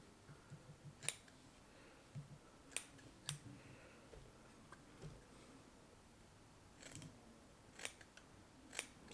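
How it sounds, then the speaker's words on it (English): Scissors snip through fly-tying material while a cicada fly is being tied: a scattering of faint, sharp cuts at uneven intervals over a quiet background, with no talking. "So then you make a snip."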